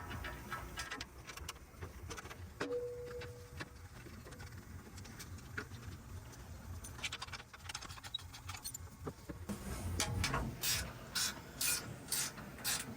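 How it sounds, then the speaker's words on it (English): Ratchet tightening mounting hardware on a rear aftermarket truck bumper, a series of small clicking and rattling strokes, moderately close, growing busier and louder toward the end with no talk. "Then you can go ahead and tighten them up on the rear fully."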